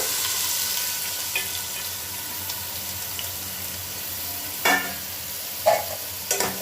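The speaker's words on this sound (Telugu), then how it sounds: "ఉల్లిపాయ ముక్కలు వేసుకుని గడ్డకల్లా తిప్పుకొని పోసి వేసుకోవాలి." Onion pieces frying in oil in a pot for fish curry, a continuous sizzle with stirring, a few sharp scrapes and knocks of the spoon toward the end.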